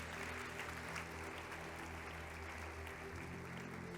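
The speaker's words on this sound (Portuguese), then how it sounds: "Pode aplaudir a Jesus, que essa é para você." Applause from a church congregation during an anniversary service, a continuous, fairly distant wash of clapping with a low instrumental hum beneath.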